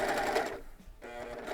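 A serger fitted with a blind hem foot sews a blind hem, its motor whirring loudly in two close bursts with a brief slowdown between them and no talking.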